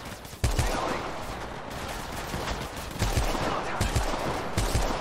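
Automatic gunfire from a hard-kicking gun in the mobile shooter Apex Legends Mobile, loud and close, in two sustained rapid bursts separated by a short break.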